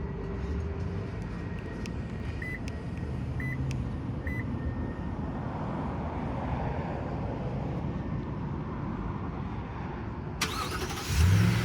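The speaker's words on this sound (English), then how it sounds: "we'll start with that remote engine start. 1, 2, 3 clicks on the lock." A 2020 Toyota Tundra 1794 pickup being remote-started, its engine idling as a steady low rumble under faint key-fob lock chirps, with a louder surge near the end as the engine catches.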